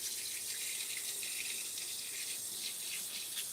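Tap water runs steadily into a kitchen sink as a large meatloaf is rinsed, a constant close hiss of flowing water with no talking.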